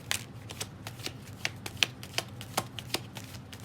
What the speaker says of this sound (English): We're just gonna shuffle them